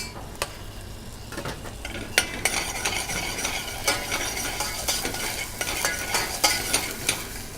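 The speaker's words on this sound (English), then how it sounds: "Now the onions have started to color a little bit. We add about half a teaspoon of ginger garlic paste." Onions frying with a little ginger garlic paste in a pan, a steady sizzle broken by repeated scraping stirs of a utensil against the metal, close and fairly loud, with no talking.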